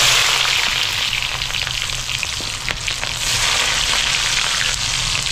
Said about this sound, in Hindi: प्याज को बढ़िया सा भून लेंगे लाल कलर का।